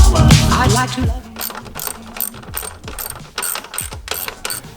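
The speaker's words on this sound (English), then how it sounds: "M6 bolts, nuts, washers, and lock washers that we are installing right now." Ratchet wrench tightening M6 bolts with nuts and lock washers on an aFe stage 2 air intake for a BMW E46 M3, a series of quick clicking bursts close up after a brief louder opening.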